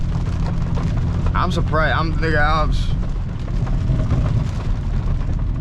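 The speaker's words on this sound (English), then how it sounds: "this is the only month that the rain actually gets this bad" Heavy rain pours on a BMW M340i driving in Miami, a dense continuous hiss and drumming on the car, with someone speaking briefly over it.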